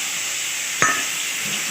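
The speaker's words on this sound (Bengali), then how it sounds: "কড়াইতে রসুন কুচি আর আদা কুচি দিলাম।" Chopped garlic and ginger frying in a wok give a steady, close sizzling hiss, broken by a single brief clink partway through.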